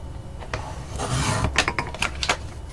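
A paper trimmer cuts cardstock for an Altoid tin treat holder in a few quick rasping slides, close and fairly loud, with no voices.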